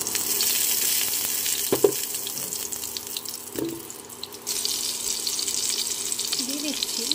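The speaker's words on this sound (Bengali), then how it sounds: "আলুগুলো ভেজে নেব" Cut potatoes fry in hot oil in a wok with a steady, close sizzle. A couple of sharp knocks and a brief quieter stretch break it up, and a faint voice briefly sounds near the end.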